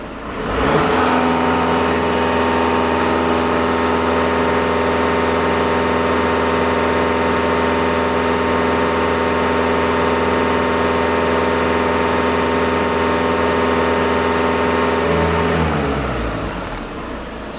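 A VW Passat 2.0 TDI diesel engine, running during an emissions-system cleaning, is held at raised revs, around 2,500 rpm, as a loud, steady drone for about fifteen seconds, then settles lower near the end.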